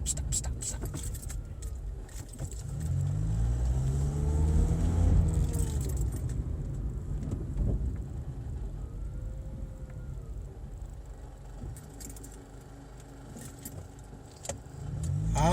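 An old Toyota car rumbles along on a test drive, its engine swelling louder in the middle then settling, with rattling cabin noises and someone talking over it.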